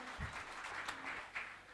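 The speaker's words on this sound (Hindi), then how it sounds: "आइए हम सब उनका तालियों की गूंज से स्वागत करें" An audience at a felicitation ceremony claps to welcome a speaker on stage, producing a faint, steady patter of applause that lasts under two seconds.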